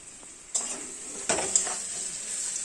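Whole cumin, bay leaf, cardamom, a little sugar and cinnamon frying in hot oil, giving a steady bright sizzle with a few sharp crackling pops, close and alone.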